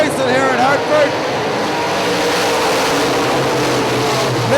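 UMP modified race cars roar around Hartford Speedway on a green-flag restart, loud overlapping engine wails sweeping past, with a commentator's voice running over the racing noise.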